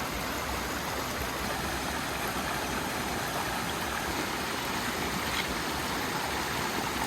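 A small stream in the Balkan mountains rushes steadily as hikers wade across, a constant broadband watery hiss with no pauses and no talk.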